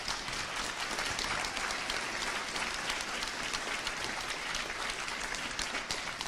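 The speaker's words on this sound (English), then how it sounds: "So give yourselves a round of applause." Audience applause after a wrap-up talk at a symposium, a steady dense wash of many hands clapping, moderately loud and sustained throughout with no voices on top.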